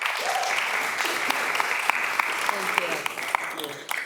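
Applause at the Oceanside City Council meeting as a certificate is presented to the Star Theater, a steady round of clapping with a few sharper individual claps, and voices audible underneath.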